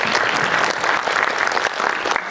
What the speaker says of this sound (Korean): 박수 한번 보낼까요?